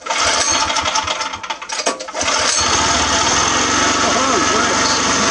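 A small engine, a pull-start unit, fires up after a pull and settles into a steady, loud high-pitched buzzing run, close by.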